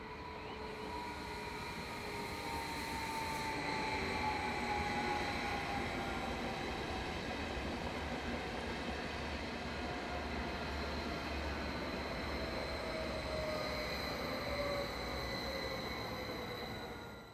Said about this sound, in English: Double-deck Stadler-built Class 511 units are a regular sight here, working many S-Bahn services and inter-regional trains.